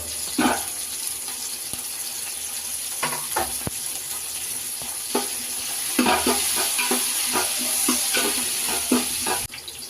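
Onions and green chillies sizzle in a pan for Rayalaseema-style uggani, with a continuous frying hiss and intermittent scrapes and clinks of stirring, fairly close and loud, and no talking.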